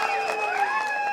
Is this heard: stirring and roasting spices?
no